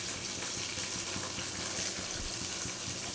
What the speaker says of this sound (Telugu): ఆనియన్స్ అయితే ఫ్రై అయిపోయినాయి